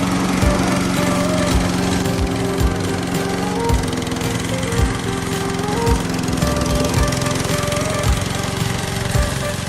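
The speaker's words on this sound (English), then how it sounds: "Now you can use the remote to operate your mower." Remote control track crawler lawn mower with its engine running steadily and loudly close by, a continuous droning hum with rhythmic thumping pulses throughout.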